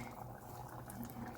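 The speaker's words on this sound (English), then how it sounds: "Let it rest simmer for a little bit, 2-3 minutes more." Puerto Rican-style chili with sofrito simmering in a pot, a low, steady bubbling with small pops, faint and continuous throughout, no voices.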